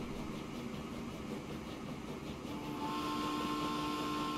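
A train in the Transport Fever simulation game rumbles steadily with a broad mechanical hum, and a sustained tonal whine rises partway through as it pulls out, with no talking.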